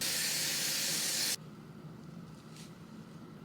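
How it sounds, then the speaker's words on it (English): Hairspray blasts from an aerosol can in one loud, continuous hiss for over a second while hair is styled, then cuts off abruptly, leaving quiet room tone with a faint rustle. "I'm just gonna keep spraying hairspray and hopefully she cooperates."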